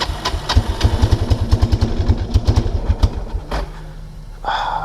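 A 1999 Kawasaki Prairie 300 ATV held at full throttle sputters with a rapid, uneven low thumping of firing pulses. The engine stumbles and fades after about three seconds, then a brief rougher burst follows.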